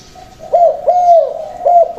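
A dove delivers three sharp, clear mid-pitched calls, the middle one long and drawn out, loud and close with no other sounds around it.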